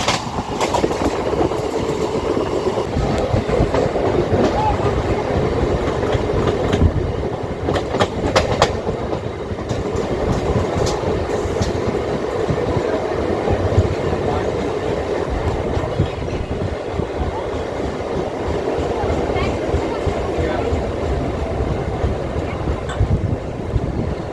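An electric local EMU train runs along the Barddhaman line beyond Bandel, a steady loud rolling rumble with clickety-clack of wheels over rail joints and wind buffeting throughout.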